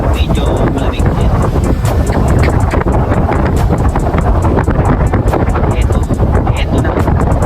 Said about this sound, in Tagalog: Malakas naman yung simoy ng hangin. Medyo malamig. Yung ihip ng hangin malakas.